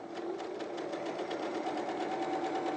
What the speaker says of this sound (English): So I'm sewing them together with a 1/4 inch,